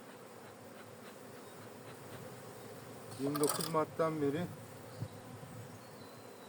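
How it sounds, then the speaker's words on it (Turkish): Steady low buzzing from many aggressive honeybees at the hive fills the background, with someone talking briefly in Turkish over it partway through. "Arı agresif."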